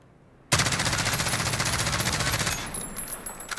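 MCX Rattler PSB rifle in Call of Duty Modern Warfare firing a sustained full-auto burst at a wall, rapid even cracks for about two seconds, loud and close, then a short ringing tail.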